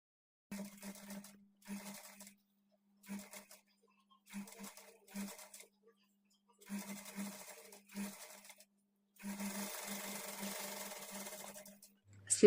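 A sewing machine runs in short bursts of rapid stitching as sleeves are attached to a blouse, with pauses between runs and a longer steady run near the end.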